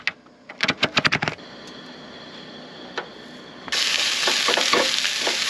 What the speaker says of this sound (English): I'll get some Italian sausage cooking.